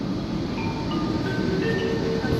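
A train slows as it pulls into Suzhou station in China, its steady low rumble and rail noise loud and continuous, with faint higher squeals rising over the drone.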